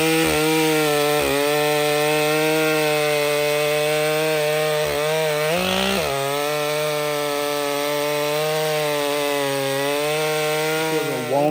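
A chainsaw cuts through a walnut log felled by root rot, a loud sustained buzzing whine close by that holds steady, with brief dips and revs as the chain bites into the wood.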